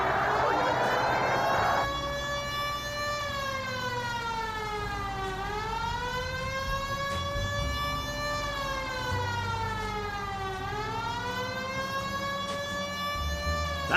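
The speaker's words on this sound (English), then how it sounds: "Turn on the siren and pull her over." Police car siren in L.A. Noire: a loud wailing siren rises and falls in slow sweeps after a brief burst of noise, steady and close throughout, with no talking.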